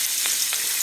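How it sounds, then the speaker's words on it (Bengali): Onions frying in hot oil in a pan during a home potato curry, giving a steady bright sizzle with faint clicks of stirring, close and continuous with no talk. "তেলের মধ্যে দিয়ে দিলাম পেঁয়াজ।"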